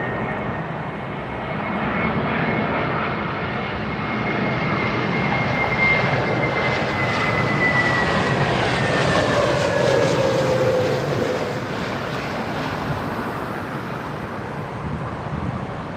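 An airliner on final approach to runway 27R at London Heathrow Airport. A steady, loud jet engine roar holds for the whole stretch, swelling slightly as the plane draws nearer overhead, with no talking.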